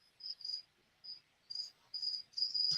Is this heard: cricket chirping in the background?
yes